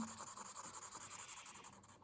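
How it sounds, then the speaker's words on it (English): Quick rhythmic scratchy strokes of a felt pen colouring on paper, close and quiet, repeating steadily back and forth. "It's good fun colouring in with felt pens."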